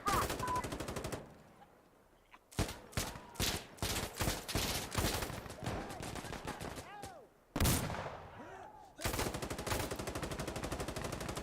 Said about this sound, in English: I'm in a firefight.